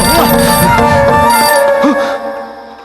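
A telephone rings in a tense horror-film scene, loud tonal rings with howling, swooping tones mixed underneath, before the sound fades out toward the end.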